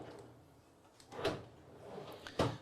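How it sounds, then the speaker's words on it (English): The drawer of a direct-to-garment pretreater machine slides out with two short scraping, clunking strokes up close, quiet between them. "So if I pull the drawer out,"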